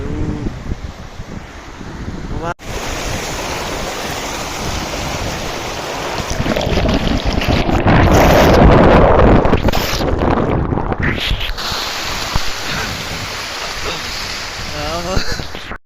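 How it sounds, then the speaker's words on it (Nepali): Strong wind buffeting the microphone in roaring gusts beside a river, with rushing water underneath and brief muffled voices. "हावा चलेको छ सरर"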